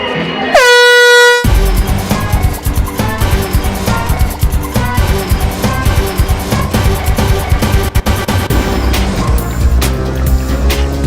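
Race starting horn at the New Bedford Road Race, a half marathon: one loud, sustained horn blast near the mic, followed by constant loud crowd and street noise.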